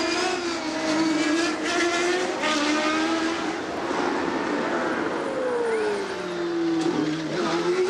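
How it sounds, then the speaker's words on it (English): A 1990 CART IndyCar accelerates out of a narrow pit lane on a street circuit in Vancouver, its engine note rising and falling loudly and steadily through gear changes, with crowd and track noise in the background. "And Fittipaldi trying to get these tires up to operating temperature just as fast as he can"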